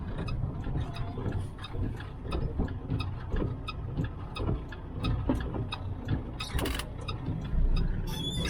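A car's turn signal ticks in a steady, regular rhythm inside the cabin during city driving in Phoenix, set against a low engine and road hum with a few sharper clicks toward the end.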